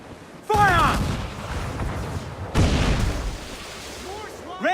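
Ship cannons firing in the video game Assassin's Creed IV: two heavy booming blasts a couple of seconds apart, each trailing into a rumbling decay, with shouted voices around them.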